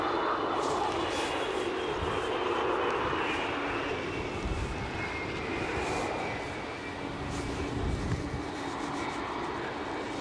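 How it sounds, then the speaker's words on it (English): An Airbus A320neo at Edinburgh Airport gives off a steady, broad engine roar at moderate distance, holding level for about ten seconds and carrying over windy outdoor rumble, with no talk. "Airways inbound with a 320 Neo."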